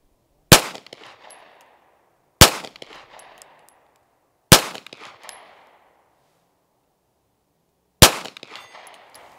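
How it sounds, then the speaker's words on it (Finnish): Four sharp, loud pistol shots from a BUL Armory SAS II TAC 5, fired singly at uneven intervals, each followed by a short ringing decay, with no talk between them. "Joten voi ampua nää loput 4 nyt toi."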